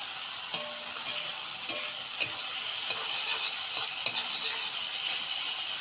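Spice paste sizzles steadily in a hot pan for a small-fish curry. A spoon scrapes and clinks against the pan at irregular intervals, close up and with no talking.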